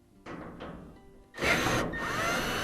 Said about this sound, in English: I'm going to pull out these two screws.